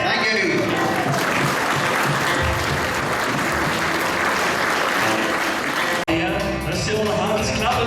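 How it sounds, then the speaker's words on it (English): A Christmas concert audience at an accordion band show gives a singer a big round of applause, loud sustained clapping filling the hall with a brief break near the end; voices carry over the clapping. "Please, ladies and gentlemen, give him a big, big round of applause."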